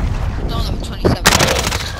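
Gunfire in Call of Duty Warzone solo play, a loud sharp burst of shots cutting in near the end over a busy game background, with voices in the mix.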